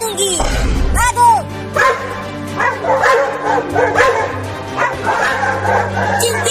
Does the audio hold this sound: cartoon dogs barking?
yes